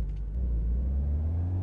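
A car engine drones with a steady low rumble while driving in the Big Ambitions video game, loud and close, holding a constant pitch throughout with no talking.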